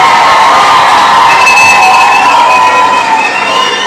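Crowd at a political rally cheering and whooping loudly and steadily, with whistles and shouts rising above a dense roar that fills the whole clip.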